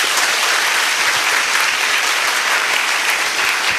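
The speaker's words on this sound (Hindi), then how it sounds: "जोर से ताली बजाइए।" Loud, dense clapping from a large audience at a devotional gathering, a steady even wash of applause sustained throughout with no gaps.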